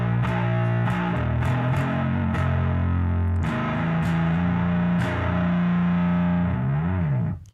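A bass played through an Abominable Electronics distortion pedal with LED clipping off, fuzzy but fairly smooth, tame and quieter, with thick sustained low notes and a few sharp plucked attacks.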